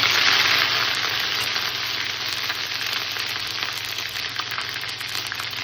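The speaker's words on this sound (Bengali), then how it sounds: "জিরে তেজপাতা শুকনো লঙ্কা তেলের মধ্যে দিয়ে দিলাম এবার দিয়ে দিচ্ছি আদা পাতা" Cumin seeds, bay leaf, dried red chili and ginger fry in hot oil, a loud, steady, hissing sizzle that holds evenly throughout with no talking.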